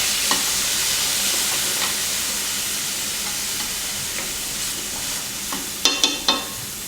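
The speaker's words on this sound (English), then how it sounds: "Add the chopped tomato once the garlic starts to turn to light brown." Chopped tomato hits garlic frying in oil for dhal, giving a steady loud sizzle with scraping stirs throughout and a few sharp clatters near the end.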